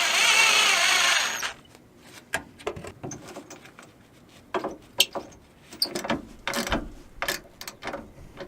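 A power tool drives screws to mount a bumper framework on a first-generation Toyota Tundra: a loud whir at first, then a string of short bursts, clicks and ratcheting knocks, fairly close.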